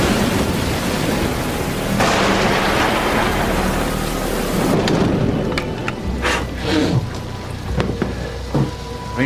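Heavy rain pours steadily through a storm, a dense constant hiss with a low rumble of thunder, then sharper drips and splashes on a surface close by.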